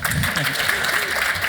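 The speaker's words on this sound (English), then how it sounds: "Round of applause for Rhonda" Conference audience at Crossmedia Toronto applauding, a steady dense wash of many hands clapping at full loudness, with voices murmuring underneath.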